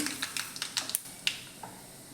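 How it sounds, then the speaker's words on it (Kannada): Mustard seeds splutter in hot cooking oil, giving a handful of sharp, separate little pops over about two seconds, close and fairly quiet, with no talking. "ಸ್ವಲ್ಪ ಸಾಸಿವೆ ಕಾಳು ಹಾಕೋತೀನಿ"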